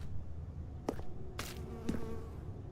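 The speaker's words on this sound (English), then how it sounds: "it sounds like flies. Maybe mosquitoes." Faint, steady insect buzzing like flies or mosquitoes hums in the ambient background of The Stanley Parable game, with a few soft clicks and thumps breaking through the quiet drone.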